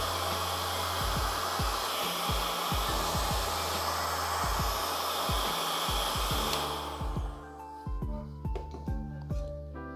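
A heat gun shrinks heat-shrink tubing over wires during a DIY light-screen build, with a loud, steady close-up blowing roar for about seven seconds before it cuts off, leaving scattered clicks and taps of handling.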